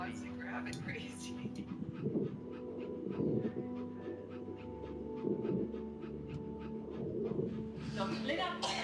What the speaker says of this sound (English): It's a real puppy.